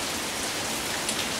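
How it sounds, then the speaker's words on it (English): Rain falls steadily, a dense, even wash of drops spattering on surfaces, close and fairly loud with no voices. "I told you it was going to rain today."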